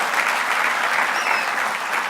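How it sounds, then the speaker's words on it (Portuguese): A church congregation gives dense, continuous applause that fills the room, steady and loud throughout. "uma salva de palmas para o Senhor"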